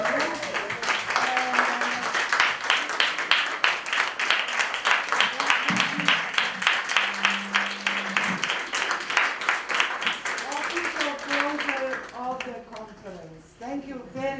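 A conference audience at the University of Arts in Belgrade applauds steadily at the close of the event, a long dense stretch of clapping with a few voices over it, thinning out toward the end.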